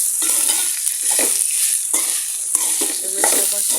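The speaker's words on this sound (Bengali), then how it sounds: "এখন চানাগুলো দিয়ে ফেললাম। পরিমাণ মতো লবণ দিয়েছি। ভালো করে নেড়ে চেড়ে" Chickpeas with salt stirred in a hot pan, a bright continuous sizzle with a few scraping turns of the spoon, heard up close and alone.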